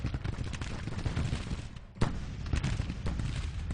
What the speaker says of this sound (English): I'm going to move Lane across here to add his fire to this